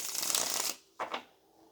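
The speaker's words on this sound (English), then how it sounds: "last shuffle and then let's get into it" A deck of tarot cards is shuffled in a long riffling rush, followed by a short pause and two quick soft flicks as the cards settle, recorded close and alone.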